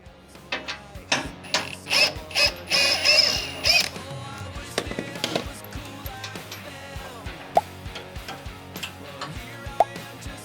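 A ratchet with a 3/4 socket works on the drain plug of a 13.5 HP Briggs mini excavator, giving fast clicking runs and metallic taps close by, followed by scattered clinks and knocks.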